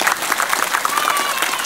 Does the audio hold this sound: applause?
yes